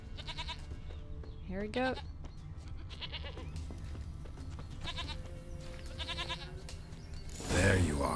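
Goat in The Witcher III bleating several times in wavering calls, moderately close, with someone talking in between and game ambience underneath.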